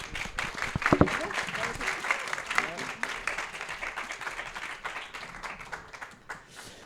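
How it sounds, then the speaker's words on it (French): An audience applauds a group of school students, with dense clapping throughout and voices speaking over it, the clapping fading toward the end. "On peut les applaudir quand même."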